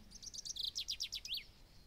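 Several small birds chirp and tweet in a quick run of high, bright calls, close and fairly faint, over a quiet forest backdrop at dusk.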